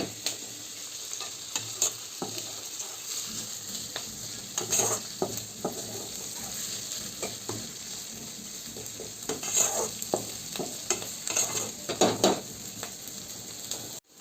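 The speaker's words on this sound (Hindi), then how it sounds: "प्याज को चलाते हुए गोल्डन ब्राउन होने तक फ्राई करना है।" Onions fry on high heat in a pan toward golden brown, a continuous close sizzle broken by frequent scraping strokes and light clinks of a spatula being stirred.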